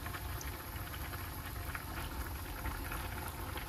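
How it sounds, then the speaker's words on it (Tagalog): Pork pieces browning in hot oil in a pan for a home pork estofado, giving a steady, fairly quiet bubbling sizzle with no talk. "Ipa-fry po kasi natin to ng mag-brown lang ng kaunti yung mga pork"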